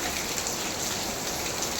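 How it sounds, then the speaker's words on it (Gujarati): Steady rain falls outside a home during the monsoon, a continuous broadband hiss of drops on surfaces with no breaks and no voices, moderately loud and even throughout. "બહાર વરસાદ એ જે ચાલુ જ છે"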